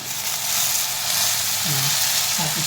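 Vegetables and curry leaves frying in hot oil in a pan, a steady close sizzle throughout, with a faint voice murmuring briefly near the end.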